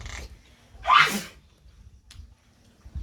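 One loud, close sneeze bursts out amid quiet background room noise.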